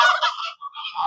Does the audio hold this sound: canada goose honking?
yes